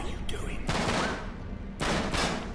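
Gunshots in Uncharted: Drake's Deception come in two loud, close bursts of rapid fire separated by a short pause, with a brief faint crack at the start.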